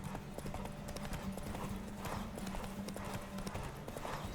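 Horse hooves clip-clop in a steady galloping rhythm under continuous low rumble and ambient game sound in The Witcher 3 video game, loud and close throughout.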